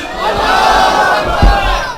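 A large crowd at a religious gathering shouting the Islamic slogan Nara-e-Takbeer in unison, a loud, close, sustained roar of many voices with a brief stronger burst midway.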